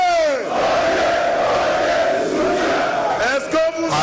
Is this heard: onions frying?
no